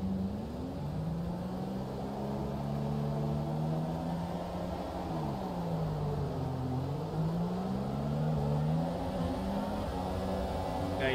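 A field of Formula 1 cars at the start of a wet race in the F1 2017 game at the Chinese Grand Prix, engines droning and shifting pitch together in a steady, loud whine.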